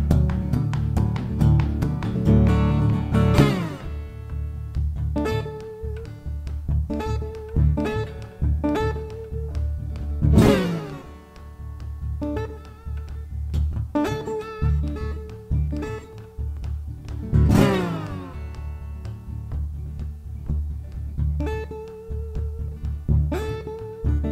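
Solo guitar plays a rhythmic figure punctuated by sharp, sweeping slides that mimic the hiss of a train's air brakes being released, repeated several times.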